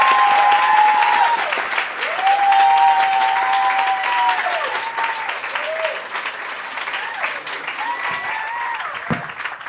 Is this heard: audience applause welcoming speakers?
yes